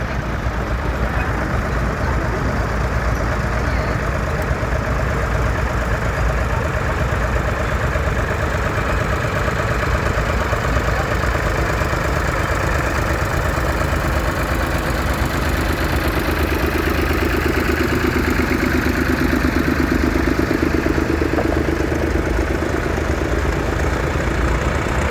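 A vintage tractor engine idles steadily and loudly throughout at a steam rally, a constant low rumble with no breaks.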